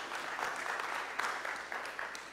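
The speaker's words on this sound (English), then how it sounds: "We should welcome pastors with applause every time they come up." A church congregation breaks into steady applause for a pastor at a Sunday morning service, a dense, even wash of many hands clapping at a moderate level with no talk over it.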